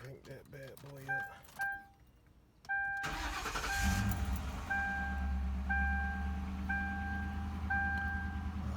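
A Chevrolet LT with 118,000 miles cranks and fires up after a few quiet clicks and chimes, then settles into a steady idle with repeating warning beeps over the engine hum.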